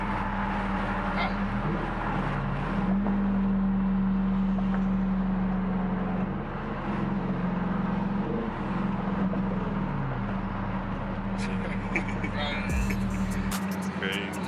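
Dodge Charger SRT with a pedal box installed, its engine idling and revving with downshift blips, a deep steady rumble from inside the car while people talk over it.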